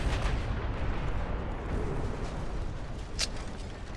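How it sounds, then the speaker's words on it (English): A torpedo striking a battleship in the naval strategy game Ultimate Admiral Dreadnoughts, heard as a dense, continuous low battle rumble with a brief sharp burst near the end, with no talking. "That was another bonk of a torpedo."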